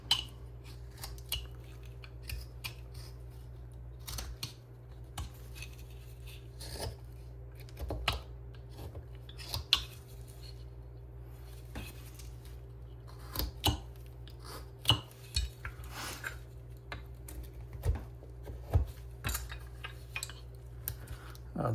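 Knife trimming back the arm of a hand-carved wooden figure, quick soft clicks and scraping cuts in uneven bursts, close and fairly quiet over a low steady hum, without speech.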